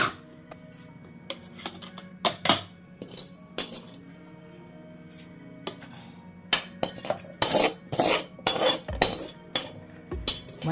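Metal spoon scraping and clinking against a pan while ivy gourds are stirred into a ground chutney, irregular sharp knocks and scrapes that grow busier toward the end over a low background hum.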